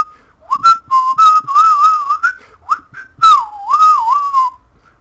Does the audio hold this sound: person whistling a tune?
yes